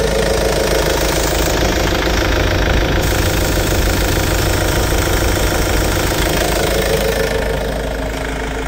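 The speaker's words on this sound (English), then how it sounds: "It is the largest naturally aspirated diesel engine that you can put in there. It's a four cylinder." Kubota four-cylinder naturally aspirated diesel engine idling in a new 5000 lb forklift, a steady close rumble with knocking clatter that holds evenly throughout.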